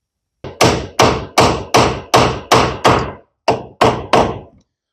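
A hammer strikes a nail into wood framing repeatedly, about ten loud, close blows in a steady rhythm with a brief pause near the end.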